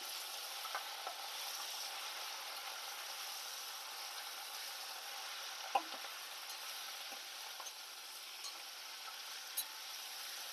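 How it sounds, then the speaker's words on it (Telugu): Moringa leaves frying in a pan make a steady, even sizzle with faint crackles and an occasional soft stir or pop, close by and with no talk. "ఇలాగ వేగాలన్నమాట."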